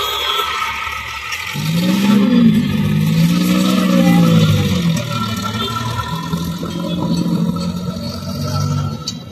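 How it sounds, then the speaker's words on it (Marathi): Cars and an Omni van pass through a busy traffic circle in Maharashtra, engines revving and whooshing by up close in overlapping waves, with a steady background hum of road traffic throughout. "ट्रॅफिक इकडून येणाऱ्या जाणाऱ्या गाड्या खूप असतात"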